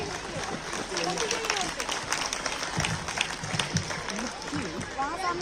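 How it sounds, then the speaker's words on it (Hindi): Audience applause at a school annual function, a steady crowd clapping heard under a speaker's voice talking throughout. "आप लोग बिना बोले ताली बजा दिया"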